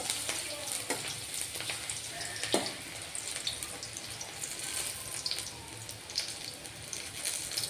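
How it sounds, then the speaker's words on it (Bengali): Onion fritters fry in hot oil in a home kitchen, a steady broadband sizzle running throughout with a few sharper crackles and pops, fairly close and with no voices. "এই যে সুন্দর লাল লাল করে ভেজে নিচ্ছি।"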